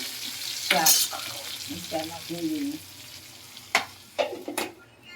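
Masala okra (bhindi) sabzi cooking in a pan, with scraping stirs and spoon clinks over a soft frying sizzle and a brief voice in the background.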